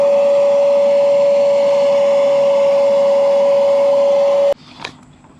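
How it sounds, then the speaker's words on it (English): A portable vacuum cleaner powered from a UGREEN Power Roam 1200 portable power station runs with a steady, loud motor whine that cuts off abruptly near the end, followed by faint clatter. "So I like to hook it up to our little portable vacuum."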